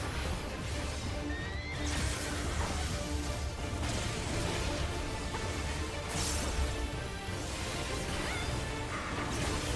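In Final Fantasy XIV, a large horse gives a loud, shrill whinny several times over a busy, noisy game soundscape with thuds and crashes.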